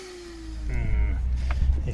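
A faulty Draper 1700 watt pressure washer starts up with a rising motor whine and a low rattling drone, loud and close, with no talking.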